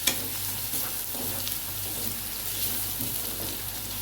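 Garlic fries in a pan for a hilsa fish curry with potato and eggplant, giving a steady, dense sizzle that holds evenly throughout, close and fairly loud.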